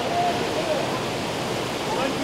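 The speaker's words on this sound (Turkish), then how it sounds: "Aşağıda sularımız çağlıyor." Steady broadband rush of water flowing below a forest walking trail near the Oylat waterfall, a continuous even roar at moderate distance with no clear breaks.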